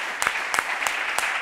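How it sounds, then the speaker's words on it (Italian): Studio applause on an Italian sports television show, thin steady clapping with a few sharper claps standing out over a continuous hiss. "un applauso per te"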